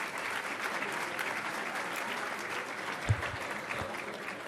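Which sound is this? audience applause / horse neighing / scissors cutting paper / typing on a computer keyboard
audience applause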